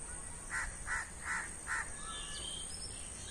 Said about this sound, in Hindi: शाम के टाइम जो है खेत में पक्षियों की आवाज बहुत अच्छी आती है